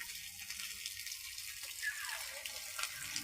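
Rain falls and water flows steadily across flooded rice fields in Chhattisgarh, a continuous close rushing wash at moderate level with no voices.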